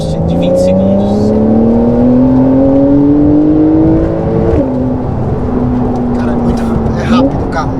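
A Porsche 911 Carrera S 992 accelerates hard with overboost, its engine climbing steadily in pitch before a quick gear change and another rise, loud and close from inside, with talk alongside.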